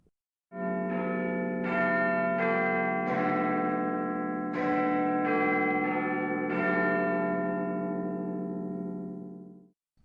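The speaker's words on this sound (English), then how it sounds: "the largest and most accurate four-facing striking and chiming clock in the world" Big Ben's great clock tower bells in London ring out in a slow series of about eight loud, rich chimes, each strike overlapping the long humming decay of the last, then fading away with no voices.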